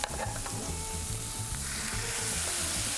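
Steady, loud sizzling of vegetables frying in a pan with Pinot Grigio wine, a continuous crackling hiss with no talking.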